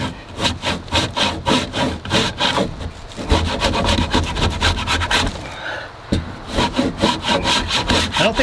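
Close, rhythmic scraping of a rasp filing a wooden edge, repeated strokes at a brisk pace with a brief pause before the filing resumes.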